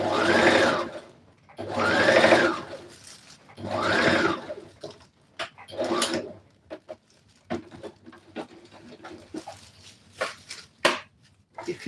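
A sewing machine stitches a long jacket in several bursts, each lasting about a second with short pauses between, followed by a run of scattered clicks and brief whirs as the fabric is adjusted, all heard close up with no voices.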